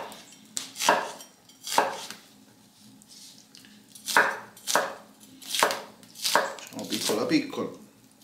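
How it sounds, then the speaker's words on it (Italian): A knife chops onions on a board in close, distinct strokes, about eight in all, with irregular pauses between them and a quick cluster near the end. "Per prima cosa mi taglio le cipolle."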